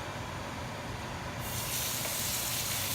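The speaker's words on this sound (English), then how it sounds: "The oil is ready to go as the recipe called for. We're gonna place both steaks in the pan." Two steaks laid into hot oil in a pan set off a steady broadband sizzle, a continuous hiss that swells louder partway through as the second steak goes in.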